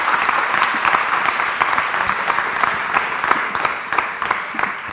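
An audience at a university science panel event applauds the teachers with sustained, fairly close clapping from a moderate crowd, steady and even for about five seconds.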